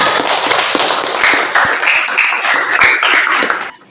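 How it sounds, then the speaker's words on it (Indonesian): Students applauding in an Indonesian classroom after a presentation during a teaching practice session, a loud, close burst of dense, irregular claps lasting a few seconds before cutting off abruptly. "Tepuk tangan untuk kita semua."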